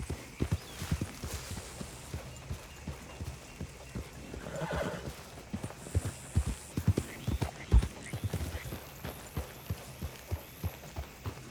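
Horse trotting in Red Dead Redemption 2, loud rhythmic clip-clop hoofbeats close by with a whinny, a little background sound in between.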